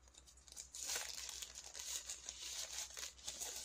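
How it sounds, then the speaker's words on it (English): A knife pouch is pulled out of a crinkly plastic shipping sleeve, making close, quiet rustling and crackling that comes and goes in soft waves over a low background hum. "it is shipped inside a plastic bag, or a plastic sleeve, if you will."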